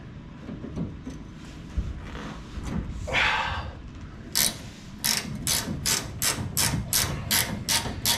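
A ratchet wrench tightens bolts back down on a 1969 Dodge Charger, starting with slower, scattered clicks and building into a quick, steady run of loud, close ratcheting strokes near the end, with no talking.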